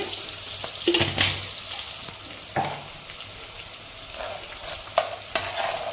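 Chopped onions with salt sizzle in a pan for mutton curry, a continuous moderate frying hiss with irregular clinks and scrapes of a stirring spoon, heard up close without speech.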